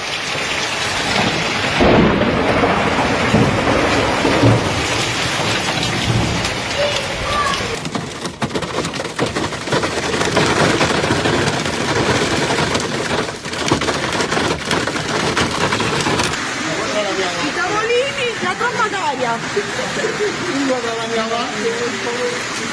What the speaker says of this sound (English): heavy hail also fell in this area